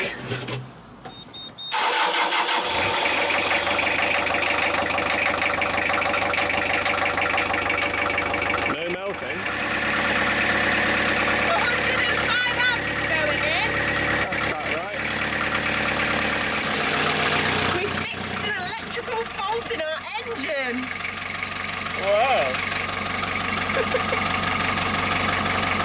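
A narrowboat's diesel engine starts and settles into a steady low idle, running continuously with people talking over it throughout.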